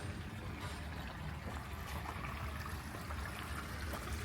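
Water trickles over rocks in a garden water feature at a flower show, a steady close wash of running water with a low rumble underneath and no voices.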